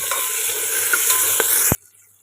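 Tomatoes with salt frying in a pan for tomato rice, a close steady sizzle with faint stirring scrapes that cuts off abruptly near the end, leaving near silence.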